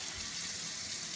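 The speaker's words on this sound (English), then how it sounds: "I'm gonna put on some cold water. Let the water get running on." Cold water runs steadily from a kitchen tap into a sink while spaghetti and meatballs are being made, a continuous soft rushing hiss with no break.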